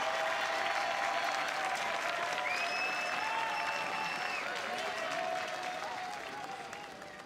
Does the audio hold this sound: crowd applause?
yes